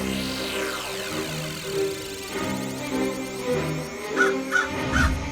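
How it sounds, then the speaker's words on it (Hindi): Crow cawing in an animated Hindi children's story scene, with several harsh caws repeating in short bursts over a layered musical background. "अरे वो कौवा भी तो वहीं पर बैठा हुआ है"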